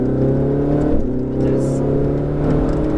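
A Ferrari 488 GTB accelerates hard out of a right-hand corner on a race circuit, its engine droning loud and close with a rising pitch through a gear change, while a voice talks over it.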